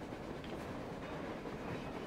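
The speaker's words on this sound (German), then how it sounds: "Nee, ist ein Zug." A train rolls past during a snowstorm in the Metro Exodus video game, giving a steady, loud rumble with rhythmic clickety-clack from the wheels that lasts the whole stretch, with no voices.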